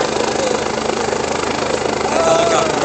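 A helicopter passes at a high school mock DUI event, giving a loud, steady rotor and engine drone with low pulsing throb that swells slightly toward the end.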